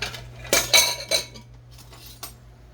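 A metal spoon digs into a hot breakfast casserole of potatoes and gooey cheese in a baking dish, giving several sharp clinks and scrapes close by, then a quieter softer scoop and one last tap.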